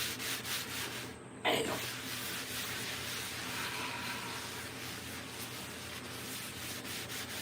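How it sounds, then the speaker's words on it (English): Oiled napkin held in tongs rubbing across a Blackstone griddle surface, a continuous soft scraping rub with one brief louder scuff near the start. "I just wipe it with oil."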